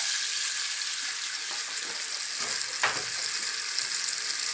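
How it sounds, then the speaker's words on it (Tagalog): Oil added to melted Star margarine heating in a pan, a steady bright sizzle and hiss that fills the whole clip, with a few faint scraping and stirring touches partway through and no voices. "So ngayon po melted na yung ating star margarine, mag-add po tayo ng konting mantika."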